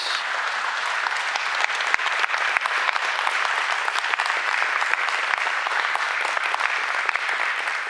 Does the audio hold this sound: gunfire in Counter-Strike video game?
no